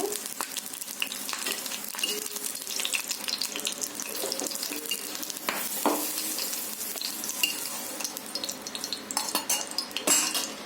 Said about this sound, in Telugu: ఇందులోనే ఒక one and half spoon oil వేసుకొని వేయించుకోవాలి